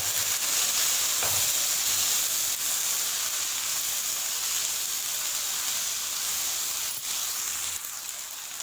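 Ground masala with dried coriander powder fries in hot oil in a pan for chicken karahi, giving a loud, steady sizzle and hiss throughout with no voices.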